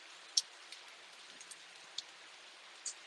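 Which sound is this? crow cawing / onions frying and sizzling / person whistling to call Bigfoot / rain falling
rain falling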